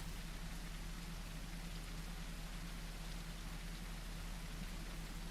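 Steady rain pours through a gaming stream of The Isle, a dinosaur survival game, as an even, unbroken hiss of drops with a low hum beneath and no voices.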